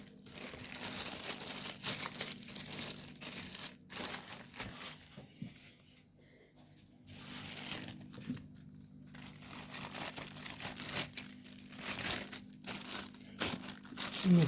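Pie dough pushed into a plastic bag, with soft crinkling and rustling of plastic that comes and goes in close, quiet bursts over a faint steady hum, with a brief lull midway.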